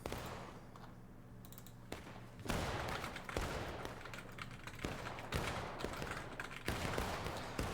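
Gunfire rings out on Burnside's Bridge in a Civil War battle video game, with repeated sharp bursts of volley fire cracking at intervals over a steady background din.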